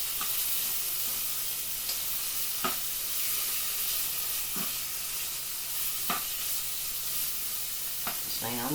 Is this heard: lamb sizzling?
yes